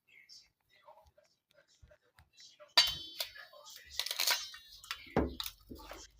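A bibingka being moved onto a plate, with close clinks and scrapes of dishes and utensils in bursts after a quiet start, and soft speech in between.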